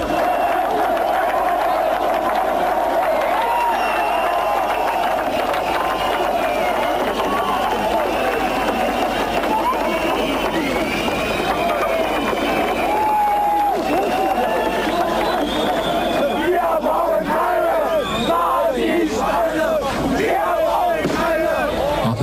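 A large crowd of demonstrators shouts and chants at the Palace of the Republic during official birthday celebrations, a dense, continuous roar of many voices with rising calls toward the end.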